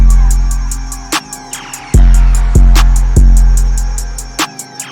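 A basic trap beat built on long, booming 808 bass notes that change pitch, under rapid ticking hi-hats and sharp snare hits, loud and dense with no talking.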